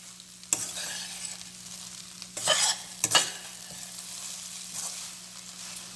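Mango rice stirred in a pan, with a few distinct scraping strokes and clatters spaced apart over a quiet low hum and faint sizzling.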